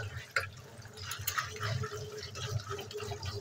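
Small puti fish and tiny shrimp being washed by hand in water, soft close splashing and dripping with light sloshing throughout, fairly quiet.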